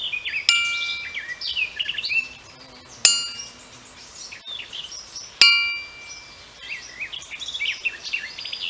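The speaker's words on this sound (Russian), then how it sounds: "Длинный звон говорит о том, что на топоре нет трещин." A handmade, still-unfinished axe head is struck three times, each hit giving a bright metallic clang that rings on and fades slowly, with birds chirping in the background.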